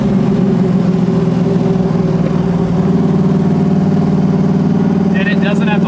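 A 540 cubic inch big block V8 in a 1968 Camaro drives along with a steady, deep low rumble throughout, held at an even load, with people talking over the engine.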